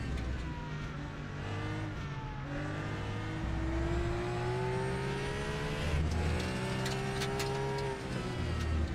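A racing car engine in a video game, an Italian or German make, revs and climbs through gears, whining higher then dropping with each shift, loud and continuous with no talk.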